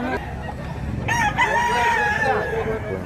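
A rooster crows loudly at an outdoor chicken market, one long drawn-out call rising over a background of clucking fowl and low murmuring.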